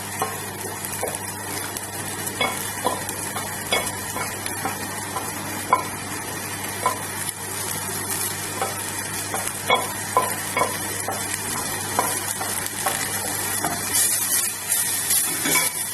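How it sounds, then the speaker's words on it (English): Gravy sizzles in a hot frying pan while a utensil stirs and scrapes against the metal, a steady close hiss with repeated light taps and clinks throughout. "The gravy now is going to go into this pan just to get all the flavours out."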